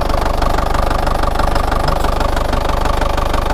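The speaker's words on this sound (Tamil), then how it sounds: "இன்ஜின் ஸ்டார்ட் ஆகிடுச்சு" A car engine idles at a Tamil used-car sales shop, a steady, close, unbroken mechanical rumble with a slight knocking pulse running evenly throughout.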